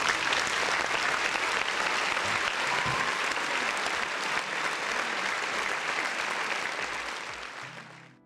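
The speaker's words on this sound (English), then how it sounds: "round of applause for the folks in the chat" Steady applause from a small audience that holds level and then fades out toward the end, with no talking over it.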